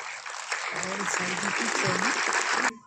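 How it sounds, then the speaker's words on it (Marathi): Audience applause at a musical program breaks out and holds steady, a dense sustained clapping from a crowd that stops abruptly near the end. "टाळ्या."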